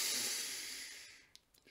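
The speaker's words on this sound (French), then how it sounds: "Je bloque et je souffle." A long, steady breath blown out through the mouth, a soft airy hiss close to the microphone that slowly fades over a second or so.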